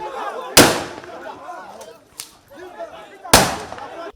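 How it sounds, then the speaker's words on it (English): Two sharp, loud gunshot-like cracks about three seconds apart, with a fainter pop between them, over a murmur of background voices, during an arrest raid at a home in Maitama, Abuja. "Gunshots, tear gas and pandemonium at the Maitama home of Senator Rochas Okorocha"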